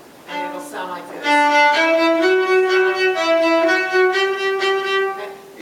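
A bowed string instrument played with the stroke brought up near the bow grip, a steady sustained tone that swells in after a short lead-in and holds with a rich, even, continuous sound, close and fairly loud.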